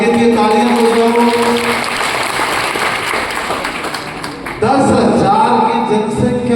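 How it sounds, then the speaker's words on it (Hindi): Crowd applause at a BJP thanksgiving rally in Sujangarh, a broad, steady wash of clapping throughout, with a voice over a PA carrying on over it and a brief dip before the clapping swells again. "एक बार बच्चनलाल जी के लिए तालियां बजाओ"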